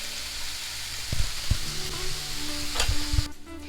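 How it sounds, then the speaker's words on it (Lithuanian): Mushrooms and onion frying together in a pan make a steady close sizzle, with several sharp clacks and scrapes from stirring throughout. "supjaustėme pievagrybius ir svogūną, kartu sudedame į keptuvę, pagardiname druska pagal skonį ir kepame"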